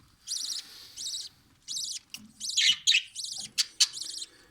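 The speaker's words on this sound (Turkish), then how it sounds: "Yuvadan gelen her yavru sesi tabi moralimizi yükseltiyor yani" Baby birds call from inside a nest in a bird-breeding hobby, giving a series of faint, rapid, high-pitched chirping bursts in a fairly steady rhythm with short pauses between them.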